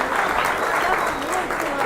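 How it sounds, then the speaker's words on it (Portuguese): Audience applause at a political rally in Santos, São Paulo: steady, dense clapping from a crowd throughout, with a voice calling out over it. "mais palmas aqui, cara"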